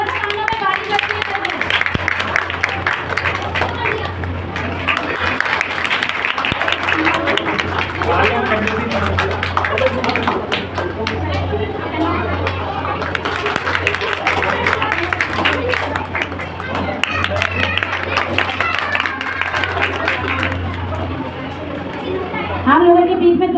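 Audience applause and crowd chatter at a hill-class function, a continuous dense wash of clapping and voices that holds steady for the whole stretch with people talking throughout.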